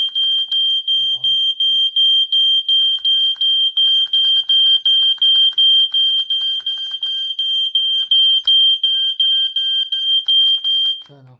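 A fire alarm sounds continuously during a weekly alarm test, a loud, steady high-pitched pulsing tone with rapid regular beats, while a person talks briefly near the start and end.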